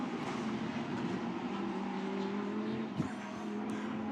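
Lamborghini Super Trofeo race cars at Misano run on track, a steady distant engine drone with a low tonal hum and one brief closer swell near the end, fairly faint overall.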